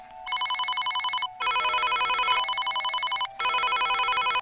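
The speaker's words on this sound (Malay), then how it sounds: "semakin kerap telefon berdering" Electronic telephone ring, loud and close, in three long trilling bursts separated by brief gaps, with no voices.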